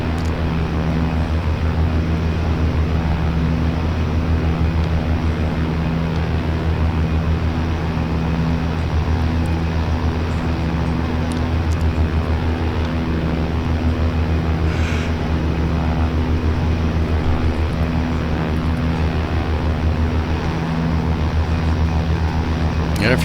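An OV-10A Bronco twin-turboprop in simulated flight drones with a steady, loud propeller and engine hum, strong low tones sustained evenly the whole time with no break.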